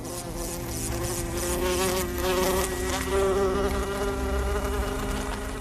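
A housefly buzzing steadily in flight, a loud close drone with a shifting whine that wavers in pitch for several seconds without pause, with no voices over it.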